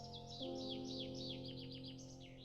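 Several birds sing in repeated bright, chirping phrases over a steady low hum, fairly quiet and continuous with no voices.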